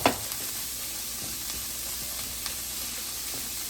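Peas simmer and sizzle in a pan, a steady close frying hiss with small crackles and one soft clink at the start, no voices.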